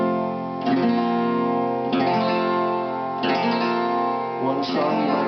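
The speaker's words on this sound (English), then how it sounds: "And you can suspend it halfway by just using the index, which would sound like this." A Harmony Hollywood acoustic guitar in open D tuning strums a half-suspended chord made with the index finger, four full, ringing strums spaced about a second and a half apart, close and sustained, with no voice.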